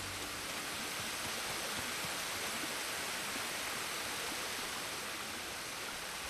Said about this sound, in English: Near the waterfall's edge.